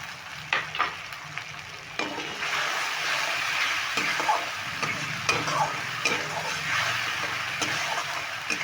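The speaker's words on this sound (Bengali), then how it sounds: "এবার সুন্দরভাবে এই মশলাটা কিন্তু কষিয়ে নিতে হবে" Spice masala and tomato paste for banana-flower kofta curry sizzle in a pan as a spoon stirs and scrapes, with intermittent clicks and taps against the pan, close and steady.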